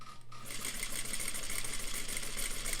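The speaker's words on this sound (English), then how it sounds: "and we can sew." A sewing machine runs steadily, stitching lines on paper, a close, continuous mechanical whir after a brief start with no talking.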